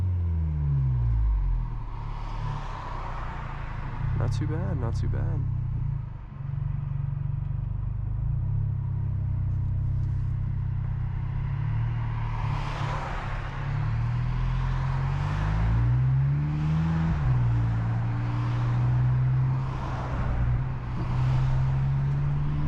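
Car exhaust drones low and steady throughout while driving, with a couple of rising engine revs near the middle and later; someone speaks briefly over the cabin rumble.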